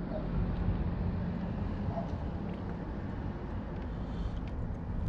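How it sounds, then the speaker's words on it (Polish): Wind buffets a microphone outdoors during a Benelli BN 125 motorcycle oil change, a constant low rumbling roar that fills the whole clip with no clear speech. "Trochę jest wiatr"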